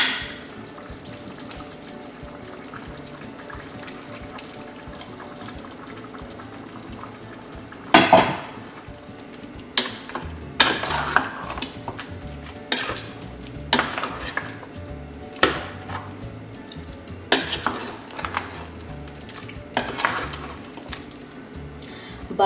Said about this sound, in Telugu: పేస్ట్ దీంట్లోకి వేసి మిక్స్ చేసుకోవాలి